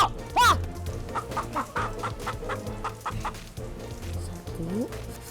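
A rooster in a mobile game clucks in a quick series of short, close calls, with a chicken squawk and game effects scattered around the repeated clucking.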